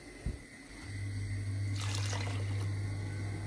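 A glass of water poured into a large pot for making jam, a brief clink and then a steady trickling, splashing pour that runs for a few seconds, close and alone.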